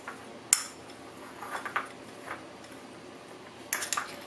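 A utensil stirs raisins and nuts into an apple stuffing mixture in a bowl, giving a few sharp clinks against the bowl at the start and end, with soft scraping and squishing between.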